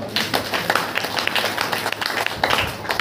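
A church congregation at a Saturday worship meeting claps hands together, a dense run of quick claps that carries on steadily throughout.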